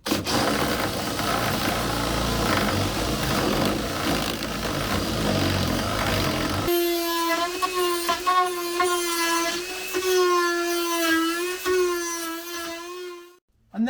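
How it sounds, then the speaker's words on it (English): A hole saw cuts back a wooden frame by a few millimetres, a rough grinding buzz that then gives way to a whining drill motor with a steady pitch that repeatedly dips under load before stopping. "I'm just going to drill some of this wooden frame back, just a few mil to make them fit."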